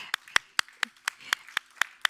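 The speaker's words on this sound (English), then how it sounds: "A big hand of applause to you" A handful of distinct claps, roughly four per second and evenly spaced, applauding a school climate-resilience presenter during an online session; sparse and fairly close, like one or two people clapping rather than a crowd.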